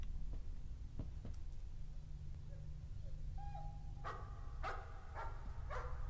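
Dog barks from the Layers of Fear video game: a few quiet yelps, then a run of four sharp, evenly spaced barks over a low ambient hum.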